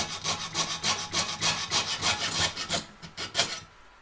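A hand saw cuts through metal sheet along marked lines for a paw print pendant in quick, rhythmic back-and-forth strokes, close and distinct, about twenty strokes before stopping.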